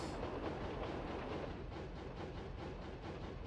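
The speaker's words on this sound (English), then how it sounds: "You can tell a locomotive here is struggling." A locomotive straining to pull a very long train in Roblox, a dense steady rumble with rhythmic clickety-clack of wheels, fairly close and continuous, without voices.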